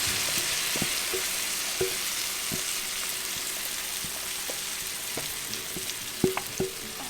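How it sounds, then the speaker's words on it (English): Palak spinach puree sizzles in a hot pan with a continuous close frying hiss, broken by occasional light stirring knocks and clicks, with no voices. "Now to this I'm going to add the palak puree that we made."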